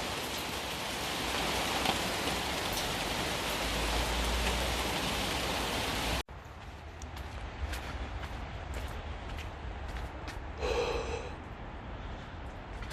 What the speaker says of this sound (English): we just had the first hail for the season.